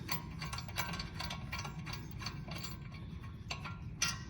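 Clicking ratchet strokes from a wrench working loose a 14 millimeter brake bolt on a Hyundai Elantra, a series of close, evenly spaced metallic ticks with brief pauses between pulls.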